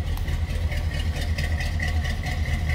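A 1971 Chevrolet Monte Carlo with a cammed 350 V8 and Flowmaster exhausts idles with a deep, rumbling, slightly lumpy rhythm, steady and close, with no talking.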